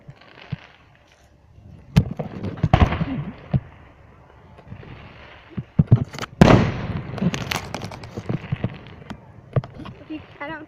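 Canada Day fireworks burst in scattered loud booms and crackles, some close and sharp, others softer and distant, with people's voices heard between the blasts.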